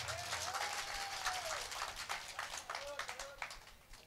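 An audience claps at a stage drama, fairly faint and uneven with bursts of clapping, while a voice and a tone ring above it.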